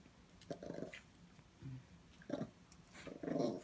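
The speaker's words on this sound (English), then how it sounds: "Hold on, I'm recording the dogs." Pet dogs growling indoors in low, rumbling bursts, several short grumbles separated by brief pauses, fairly faint and close.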